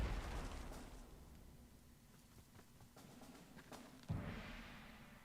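Artillery bombardment in the wargame Panzer Corps 2, set in Operation Barbarossa, gives faint, low, rumbling booms, with a heavier blast landing near the end.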